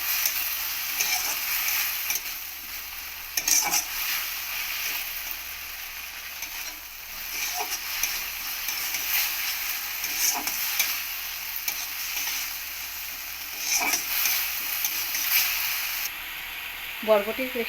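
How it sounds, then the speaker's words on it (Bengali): Steady sizzling of long bean paste frying in a pan, with occasional scraping and stirring clicks, continuous and fairly close throughout. "বরবটি পেস্টটাকে একটু ভেজে নেব"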